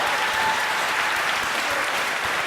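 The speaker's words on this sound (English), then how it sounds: "Give Lisa a round of applause" An audience at a Crown Heights neighbourhood event applauds, a steady and moderately loud wash of clapping from a crowd that carries on without a break.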